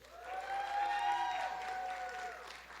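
An audience claps at an awards ceremony, with a steady, moderately loud round of applause that rises and fades over a few seconds, while a tonal hum runs underneath.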